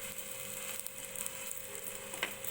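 Dal uttapam frying in a pan, the second side browning, a soft continuous sizzle with faint crackles and a light scrape or tap near the end, quiet and close with no talk.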